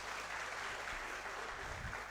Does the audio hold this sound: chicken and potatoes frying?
no